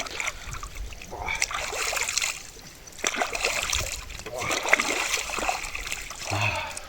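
Sea water on a beach scooped and splashed onto a face in repeated bursts, up close, with brief pauses between splashes and people talking over it.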